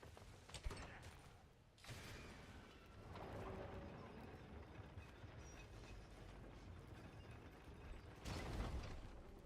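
A gate crank in God of War Ragnarok is turned amid game ambience, giving a continuous grinding, ratcheting mechanical clatter with creaks, punctuated by louder clanking bursts at the start and near the end.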